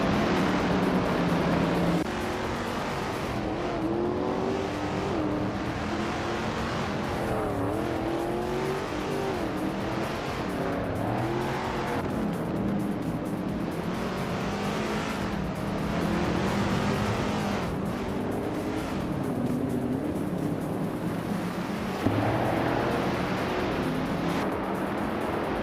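Vintage street cars, led by a classic 1973 Holden Monaro GTS, race in a video game, with engines roaring continuously and loud as revs climb and fall through repeated gear changes, and overlapping cars passing close.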